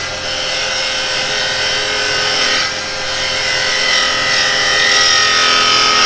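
Wood spinning on a lathe as a gouge cuts and peels off shavings, a steady loud whirring scrape that continues without pause for the whole stretch, with a faint dip in the middle and no talking.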